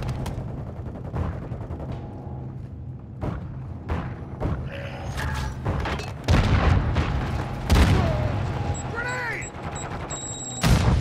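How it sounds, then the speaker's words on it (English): Call of Duty 2 firefight: scattered rifle and machine-gun shots crack across the battlefield, then a heavy grenade blast booms, followed by more bursts and another explosion, with game voices calling out between. "Grenade!"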